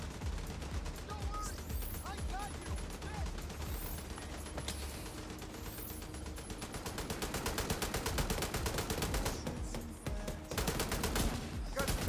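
Gunfire in The Division 2 crackles in rapid bursts over a steady game background, with sharp shots repeating densely, growing busier toward the end, and a voice speaking briefly.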